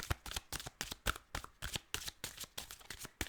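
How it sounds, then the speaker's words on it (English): Tarot cards being shuffled in a rapid run of crisp riffling flicks and slaps, close and fairly quiet, with no voice present. "please fast forward if you don't like to see the shuffle"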